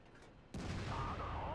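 Tank cannon in World of Tanks fires at a T-54, one sudden heavy boom followed by a sustained loud rumbling blast and a faint whine trailing off.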